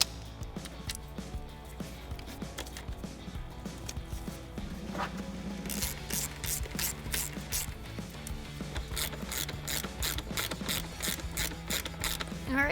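A ratchet tightens the fuel rail bolts on a 1987-2004 Ford Mustang V8. Bursts of rapid, evenly spaced clicks come close up, with faint mechanical handling noise between them.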